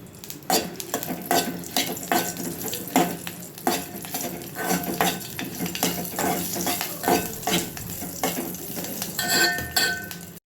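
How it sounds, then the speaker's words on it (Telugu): Green and dry chillies fry in oil in a pan for a drumstick-leaf chutney, a steady close sizzle broken by repeated scraping and clinking stirs of a metal utensil throughout. "ఉన్న ఆయిల్లో పచ్చిమిర్చి, ఎండుమిర్చి వేసి కాస్త వేపేద్దాం."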